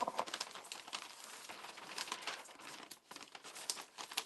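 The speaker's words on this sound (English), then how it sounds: "just rip the paper, it'd be quite noisy" Paper ripped by hand for textured art, a run of close, crisp tearing and crinkling bursts in irregular rhythm, quiet and without talk.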